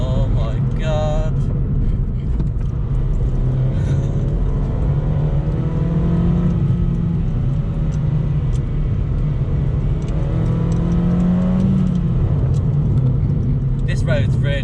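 Mazda 2 Sport car driving a dipping, cornering country road on a greasy surface, its engine droning steadily with rising and falling revs throughout, heard from inside the cabin with a person talking over it.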